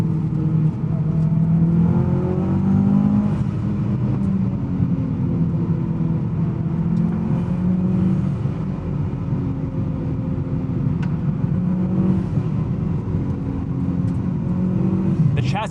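A modified 1999 Mitsubishi Lancer Evolution VI with coilovers rises and falls in several revving sweeps as it drives, heard up close from inside the car.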